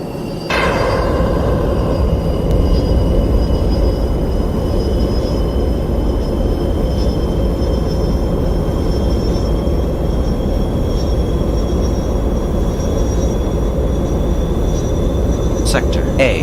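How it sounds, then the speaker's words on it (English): A jet engine with afterburners lit in a flight simulator game, a loud, sustained low roar that holds steady from start to finish. A few faint tonal cues ring out over it. "Put your throttle all the way up until the afterburners kick in."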